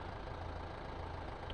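A tractor engine in Farming Simulator 15 idles with a steady low rumble, continuous and close, with no voices and no change in pitch.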